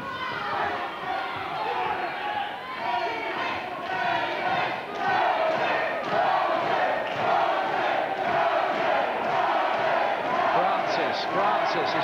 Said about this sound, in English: the chant from the fans here in Bethnal Green